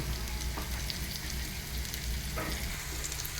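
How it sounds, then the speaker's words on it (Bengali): Onions and chili fry in hot oil for a Malabar spinach dish, giving a continuous even hiss of sizzling with a couple of faint clicks, no talking. "এই যে এখানে তেল গরম হইতেছে পেঁয়াজ দিয়ে দিছি মরিচ"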